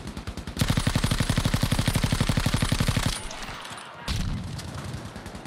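Machine-gun fire from Battlefield Pacific hammers out as a long, loud, steady rapid burst of evenly spaced shots, then breaks off into rumbling battle noise and another heavy blast.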